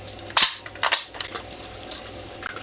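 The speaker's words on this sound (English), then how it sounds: "So last round, bolt's open." Rifle bolt locking open after the last round, with two sharp metallic clacks in close succession, up close and fairly loud, then a few fainter mechanical clicks.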